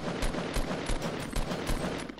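Rapid gunfire bursts in Fortnite, loud and close, a quick string of four or five sharp shots spaced evenly across a couple of seconds.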